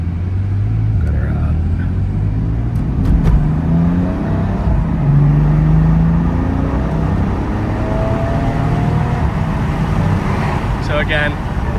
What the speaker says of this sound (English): Car does have that nice throaty sound that we get with some of these newer F80 and G80 M3s and M4s.